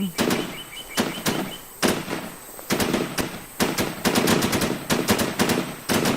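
Gunfire in the online shooter game WarZ, heard as loud bursts of rapid automatic fire with separate single shots. The shots come in irregular clusters with short pauses between them.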